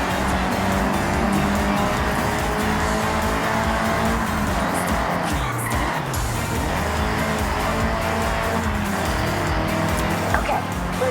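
Nissan Silvia drifting in the Forza Horizon 6 video game, engine roaring loudly and continuously while tires squeal through long slides, with a brief skid burst near the end.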